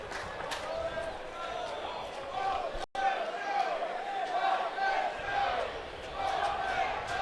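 Georgia baseball crowd at an Alabama vs Georgia game chanting "Walk that dog", a steady rhythmic roar of massed voices that rises and falls throughout, with a brief dropout partway through.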